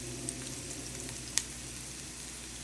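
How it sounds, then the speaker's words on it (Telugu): Onion and radish frying gently in oil for a pickle, a soft steady sizzle heard up close and quietly, with a couple of faint utensil clicks and no talk. "అన్నీ కలిపి ఫ్రై అవుతూ ఉంటాయి"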